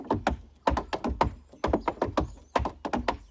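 Tap shoes strike a hard floor in quick, light bursts of a leap-shuffle-back-front step, grouped clusters of crisp taps repeating in an even, jumpy rhythm, close and clear with no talking.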